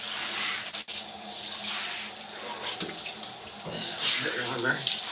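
Shower water runs steadily in a home bathroom, a broad hissing spray that holds fairly constant for about five seconds, with faint splashing and a brief dip near the start.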